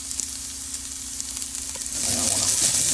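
Cubes of beef for Irish stew fry in a pot, a steady close sizzle that swells into a louder, fuller hiss partway through as more meat goes in; no voices.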